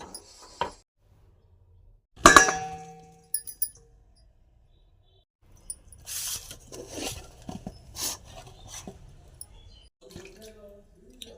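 Rice flour being stirred into boiling water in a cooking pot for rice-flour flatbread dough: a sharp clink, then a stretch of soft scraping, rubbing and occasional tapping of the utensil against the pot, close and moderately loud.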